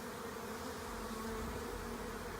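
Honey bees droning around an open nucleus hive during a spring split, a dense continuous buzz close by and steady throughout, without any talking.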